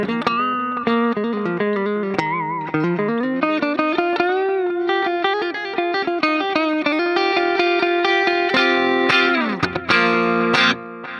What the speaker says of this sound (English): we have a tape echo, which is awesome. I like the tape echo